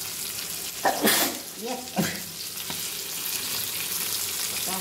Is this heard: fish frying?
yes